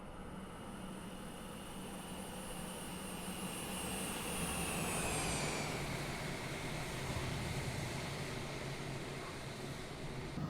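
A Part 135 jet's engine runs with a steady, loud broadband roar and a high whine that slides down in pitch as the engine spools toward shutdown.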